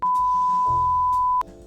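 A censor bleep: a single sustained, loud pure beep running about one and a half seconds, with muffled voice sounds and background under it.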